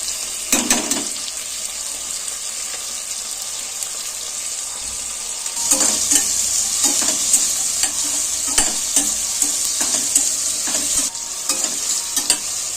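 Ingredients for a mint and coriander green pulav fry in a pan with a steady, bright sizzle, broken by repeated scraping stirs that grow more frequent partway through.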